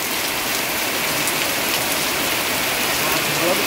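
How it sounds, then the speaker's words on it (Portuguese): Heavy rain pours steadily during a storm the day before building work on a bedroom begins, a dense, even hiss with no break, loud and close, with no one speaking. "Olha a chuva um dia antes da gente começar a obra do quarto"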